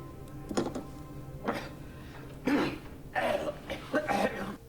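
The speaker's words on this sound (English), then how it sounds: "He starts coughing and gagging and shit." Several harsh coughing bursts with throaty gagging, irregularly spaced across a few seconds, fairly close and moderately loud.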